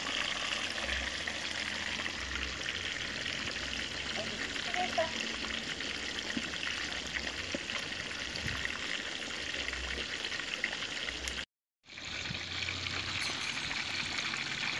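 Food browning in a pan at a family gathering, a dense steady sizzle with light stirring and faint background voices, broken by a brief dropout of sound near the end before the frying resumes.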